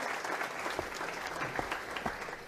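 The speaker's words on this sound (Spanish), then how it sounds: "Aplauso." Steady applause from an audience in a Dominican comedy film scene, dense and continuous clapping at moderate volume with no talking over it.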